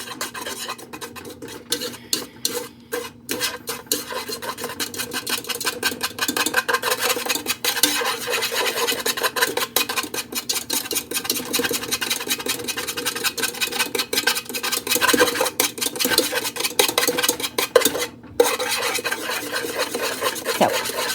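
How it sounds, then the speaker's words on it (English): Rapid, steady scraping and rasping of a whisk beating an egg and sugar mixture for tiramisu in a bowl, continuous and close for about twenty seconds with brief pauses. "whisk vigorously until the sugar dissolves and the mixture is light and thick"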